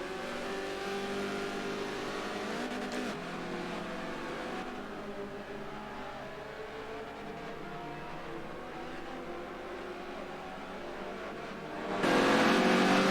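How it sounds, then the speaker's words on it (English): Fiat race car engines of 102 horsepower in a Forza race, droning and revving steadily through gears with a sharp rise in engine roar at the end. "Give you a little bit more audio to hear these Fiat motors turning and burning"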